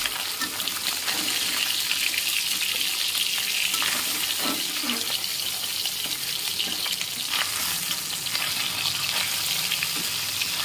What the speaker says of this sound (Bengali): মাছগুলো দেখো ভাজা হয়ে গেছে, তুলে দেবো।